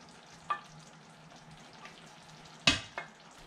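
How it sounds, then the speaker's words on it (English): Chicken meatballs fry in a pan of tomato sauce with a little added water, a soft continuous sizzle broken by a few sharp splashes and clatters as pieces are dropped or stirred, heard close with no talk. "Let's just throw the meatballs in there and I'll add a little bit of water and then we'll let it cook."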